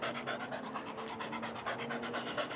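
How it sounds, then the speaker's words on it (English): A dog panting hard and fast on a hot day after running around, a steady rhythmic stream of quick breaths close to the listener, heard alone without talk. "It's too hot for you to be running around like this, Span Dog."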